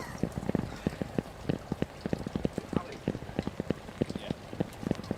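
Heavy rain pours at Donington Park race circuit, with dense, uneven patters and drips close by while a person talks over it.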